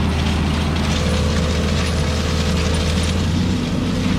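A farm planter set for 30-inch rows runs with a steady mechanical clatter, a dense ratcheting and grinding of gears over a constant low drone, loud and close throughout.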